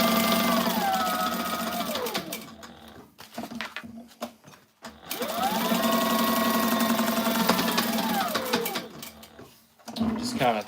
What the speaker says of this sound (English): So I'll do double stitching on this internal pocket, just so that there's just no way that it would ever rip.